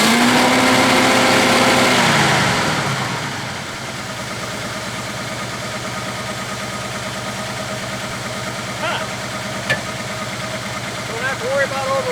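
A 1966 Chevy Biscayne big block V8 with a dead cylinder, rough and loud as it revs up hard for the first few seconds, then dropping back to a steady, lumpy idle with a few faint clicks near the end.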